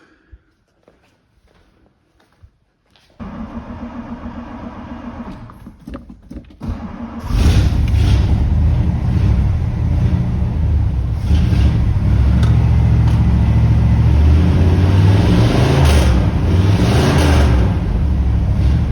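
A car engine starts and settles into a steady, loud idle after some quiet rustling and clunks, running continuously up close.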